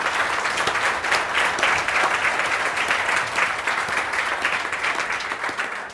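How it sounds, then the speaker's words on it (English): Sustained applause from a conference audience thanking panel members after a discussion session, a dense steady wash of many hands clapping at close range throughout, with no speech over it. "A big hand of applause for our panel members"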